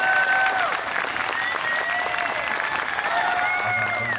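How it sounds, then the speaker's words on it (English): Outdoor audience at a city park clapping and cheering steadily for a bluegrass mandolin player, dense sustained applause with scattered shouts and whistles throughout. "he got a bigger clap than me"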